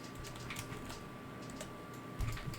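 Keys clatter on a computer keyboard in steady, moderately quiet bursts, with a slightly heavier tap near the end and a low room hum underneath.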